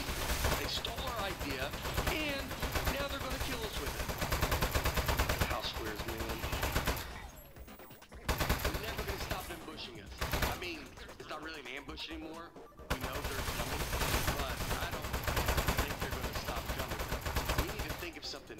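Video-game gunfire in Aperture Desk Job, rapid bursts of automatic shooting and turret fire that run almost continuously with short breaks, loud and busy, with voices talking over the combat.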